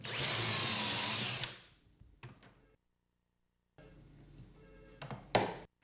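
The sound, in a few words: drilling pocket holes in end board with Kreg step drill bit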